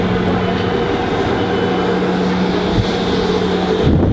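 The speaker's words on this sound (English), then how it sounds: "the southbound train is over there" A train rumbles steadily at a station on the Inverness line, a continuous low mechanical drone with a faint hum, fairly loud and close, with no talking over it.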